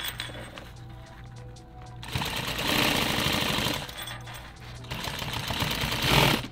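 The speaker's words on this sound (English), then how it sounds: "So sew it from the center." A sewing machine stitches nylon tactical gear in two distinct runs of fast, rattling mechanical chatter, separated by quieter pauses with a faint background hum.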